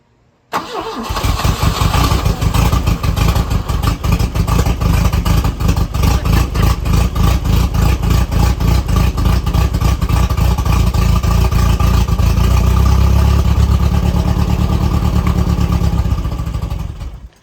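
An old abandoned Volvo 240 is cranked on starting fluid: a rapid, rhythmic starter churn catches and keeps running as a loud, steady engine roar for over fifteen seconds, then stops abruptly.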